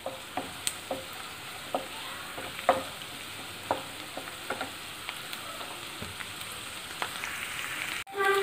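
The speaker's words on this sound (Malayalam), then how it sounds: "നന്നായിട്ട് ഇതേ ഉള്ളിയൊക്കെ വാടി വരുന്നുണ്ട്." Onions sauté in a pan for a beef curry, giving a constant close sizzle broken by sharp ticks and scrapes of stirring, with a louder clatter at the very end and no voices.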